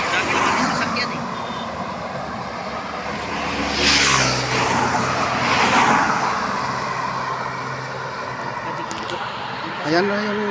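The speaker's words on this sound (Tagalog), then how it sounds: "Dami naman yung sasakyan eh." Cars pass along a road in a hilly area near a church, one after another, rising and fading around the middle of the clip, with people talking over the traffic noise.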